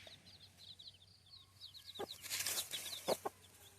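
Chickens cluck in a village yard, several short calls near and far, with a few sharper clucks bursting out midway over quiet background chirping.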